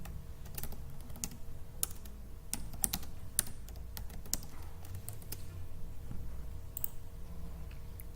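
Computer keyboard being typed on to enter a column name, soft quick key clicks in an irregular rhythm, close and quiet with no talk.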